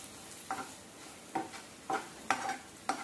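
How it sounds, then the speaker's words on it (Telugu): Tamarind and turmeric are stirred in a pan for ivy gourd chutney, with five scraping spoon strokes over a faint background sizzle. "ఇప్పుడు వీటన్నిటిని బాగా ఒకసారి కలుపుదాం."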